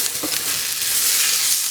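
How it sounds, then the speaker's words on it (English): Garlic frying in a pan for a sumac chicken dish, stirred with a steady bright sizzle and light scraping, close and fairly loud throughout with no talking. "I'm going to stir this around until I smell the garlic."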